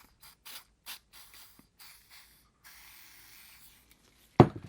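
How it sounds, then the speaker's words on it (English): Several short hissing sprays from an aerosol carbon cleaner come in quick bursts, then one longer, steadier spray into an engine, faint and close, ending with a sharp knock. "I'll spray a little more in there."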